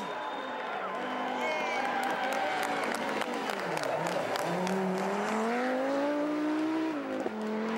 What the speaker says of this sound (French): La valve du turbo travaillé.